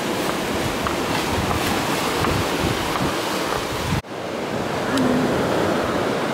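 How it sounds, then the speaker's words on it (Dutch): Rough, wild sea surf crashing continuously and loudly, with heavy wind buffeting the microphone throughout and a brief dropout partway through. "De zee is te wild."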